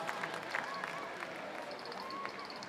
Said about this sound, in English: But give her a round of applause